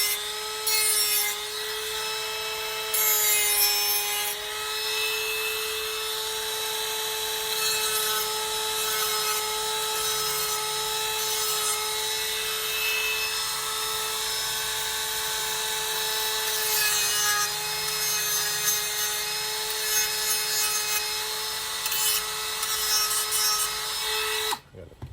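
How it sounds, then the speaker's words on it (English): Power sanding of cut holster material for a Sig P365XL purse holster, clearing off melted flashing; a steady, loud motor whine runs continuously for about 25 seconds with rough scraping over it, then stops abruptly at the end. "Sanding all that off and making sure my cuts are nice and straight and consistent."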